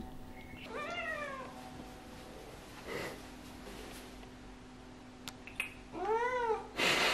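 Ragdoll cats on a balcony give two drawn-out meows a few seconds apart, fairly close but soft, over a quiet background with faint sniffing and small noises in between.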